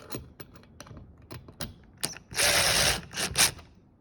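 A screw on an electrical connector with an anti-short bushing is tightened down in a commercial outlet box, giving a run of close, dry clicking and ratcheting with a denser burst of rapid clicks near the end.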